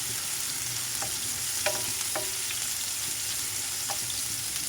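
Garlic and onion sauté together in a pan for chicken pork adobo, a constant soft sizzle with a few light clicks of a spatula stirring, close and steady with no one speaking.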